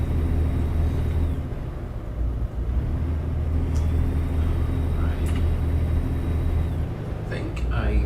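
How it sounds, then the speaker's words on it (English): A four-cylinder truck engine in the American Truck Simulator game drones with a steady low growl throughout, a continuous rumbling hum with faint higher tonal whines, the engine running alone without talk. "it honestly sounds really good too for a 4-cylinder. It's got a nice low growl to it."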